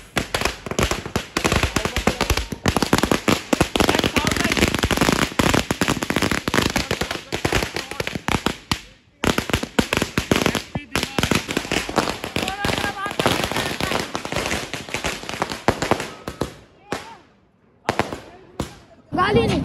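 Diwali firecrackers burst in rapid, dense strings of loud, close cracks and pops, forming long continuous volleys broken by a few short gaps, with scattered single bangs toward the end.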